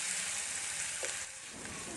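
Grated coconut roasting in a pan for a Kerala-style roasted-coconut chicken curry, giving a steady, close sizzle with faint stirring scrapes throughout and no talk.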